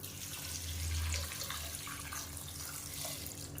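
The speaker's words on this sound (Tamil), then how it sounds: "இப்போ இதில் தேவையான அளவுக்கு தண்ணி சேர்த்துக்கலாம்" Water runs from a tap into a cooking pot for tomato soup in a home kitchen, a close, steady splashing pour with a slightly louder gush near the start and no talk over it.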